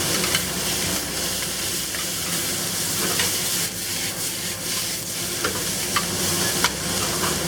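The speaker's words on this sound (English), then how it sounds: "Toss this for about 30 seconds. We'll add the cowpeas." Chicken with cowpeas and bamboo shoots stir-fries in a Sichuan-style wok, a loud continuous sizzle with scraping, tossing strokes throughout, close and without talk.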